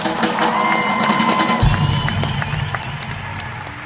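A comedy show audience bursts into applause and cheering, a dense, close burst of clapping with some whoops that tapers off over a few seconds.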